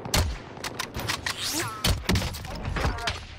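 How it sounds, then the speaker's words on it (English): Gunfire in the Warzone video game, including Kar 98K sniper play, comes as a rapid series of sharp, close shots with short gaps between bursts, mixed with other game sounds. "One more across still shooting at us."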